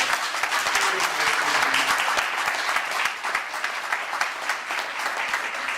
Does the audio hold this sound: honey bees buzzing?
no